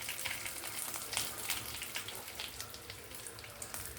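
Dried red chillies sizzle in hot oil in a pan for a Telugu ivy gourd fry, with a steady, dense crackle and spatter that runs alone without a break.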